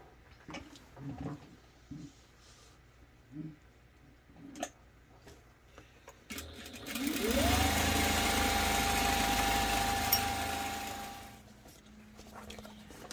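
A sewing machine quilts fabric panels for a bag, starting with a rising whir after soft scattered handling sounds, then running steadily and loudly for several seconds before winding down.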